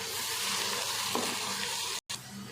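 Finely chopped onions, about half a kilo, hit a cup of hot ghee in a cooking pot and fry with a steady, close sizzle, broken by a brief clatter as they are stirred.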